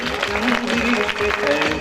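Audience claps for a child at a school annual program, a short burst of applause from the hall with a voice or tone faintly audible underneath.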